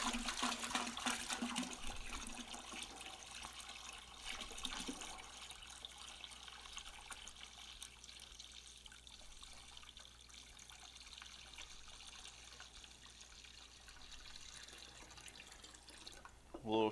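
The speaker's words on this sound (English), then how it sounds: "we have to add our top off water to make 5 gallons" Top-off water poured into extract homebrew wort to bring it up to five gallons, a steady continuous splashing pour that runs for many seconds, louder at first, ending with a brief knock.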